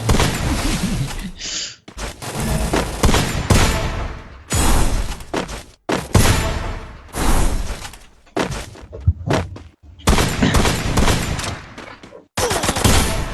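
Rapid gunfire rattles through a first-person shooter match, with dense bursts and sustained volleys broken by brief gaps, loud and continuous across the stretch.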